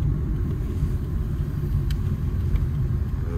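Car turning during a driving test, heard from inside the cabin as a steady low engine and road rumble, close and continuous with no talk.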